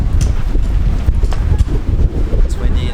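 Heavy wind buffeting a microphone outdoors on a hot, windy day beside a car, a loud, continuous rumbling roar with gusty surges and scattered faint clicks.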